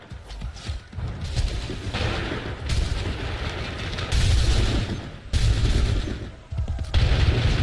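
Repeated gunfire volleys and booming shots from Assassin's Creed 3 gameplay, dense and loud in bursts that swell and cut off throughout, with a faint voice underneath.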